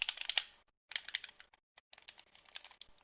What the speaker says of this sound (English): All the buttons are really clacky.